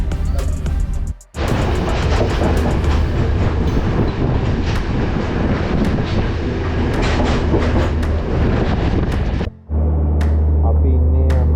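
A train at Anuradhapura railway station in Sri Lanka rumbles loudly and continuously with rolling clatter, recorded from close by, with brief dropouts and a deep engine drone near the end.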